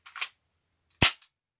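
An HFC heavyweight M92 airsoft pistol with all-metal mechanism fires two sharp, loud cracking shots about a second apart, close by, with no speech.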